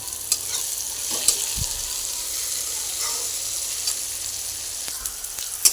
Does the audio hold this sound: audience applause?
no